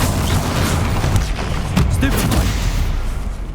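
Explosive Bombarda blasting spells fire in a Harry Potter video game battle against a troll, giving repeated loud, close booms and gunfire-like cracks over a dense rumble of combat effects.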